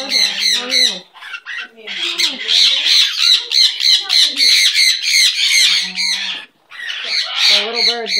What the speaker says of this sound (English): The little birds, they sure can be noisy.